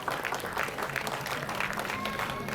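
A hall audience at a silver jubilee musical night claps in a thick, continuous wash of applause that stays loud and even from start to finish.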